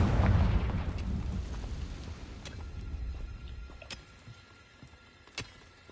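A Confringo spell blast in the video game Hogwarts Legacy booms at once, a heavy explosion that fades over a few seconds into scattered crackles and pops, with one small sharp burst near the end.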